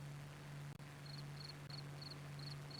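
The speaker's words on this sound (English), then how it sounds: "the cricket is back" A cricket chirps in short, evenly spaced pulses, faint and steady over a constant low electrical hum and background hiss, with no talking.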